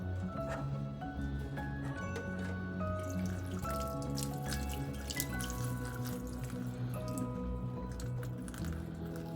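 Water drips and trickles from a squeezed cloth bundle of chhena, fresh cheese for rasmalai, in a home kitchen, a steady patter under continuous background music.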